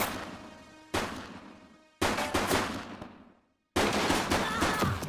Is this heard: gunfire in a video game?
yes